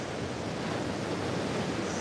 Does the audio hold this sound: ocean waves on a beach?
yes